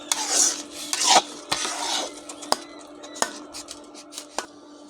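A spoon scrapes and stirs thickening yogurt in a pan while carrot sweets are being made, irregular metallic scrapes and taps close up, with some quiet speech.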